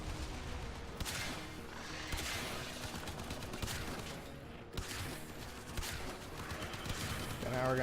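Rapid gunfire in the game Warframe aimed at the Jackal boss: repeated loud bursts of shots and impacts, dense and continuous across the whole stretch, with game effects layered in.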